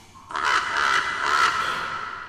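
A raven caws as an effect during a Turkish reading of Poe's The Raven, giving one long harsh rasping call, close and clear, alone without speech.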